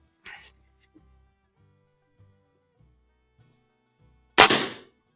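A Crosman Prospect air rifle fires a single sharp, loud crack close by after a few seconds of near silence, with faint handling noises beforehand.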